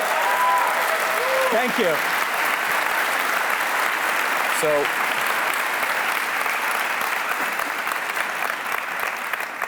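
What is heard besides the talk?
audience applause after a talk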